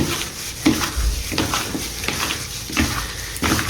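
Chicken being mixed by hand into a soy sauce marinade, giving soft wet squelching and stirring pulses that repeat roughly every half second or so, close and moderately quiet, with no talking.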